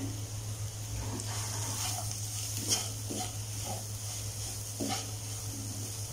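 Salted potato masala stirred in a pan for potato rice, with soft scraping strokes and faint sizzling over a steady low hum, a few spoon clinks standing out.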